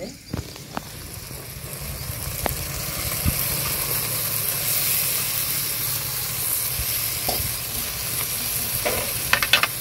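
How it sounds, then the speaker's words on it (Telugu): Boiled black-eyed peas tossed into a hot pan for a village-style curry, giving a steady sizzle and hiss with soft stirring scrapes and a few sharp clinks throughout. "ఉడకబెట్టుకుని అలసందలు వేస్తామండి"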